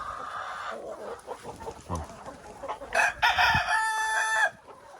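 Chickens and young roosters in a poultry run, with clucking throughout and a clear crow near the end rising above the general fowl chatter, heard close and moderately loud.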